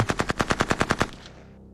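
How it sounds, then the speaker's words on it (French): Rapid machine-gun fire from a weapon near an abandoned old military truck, about ten evenly spaced loud shots in quick rhythm, then a fading echo, with no talk over it. "Écoute, il tire."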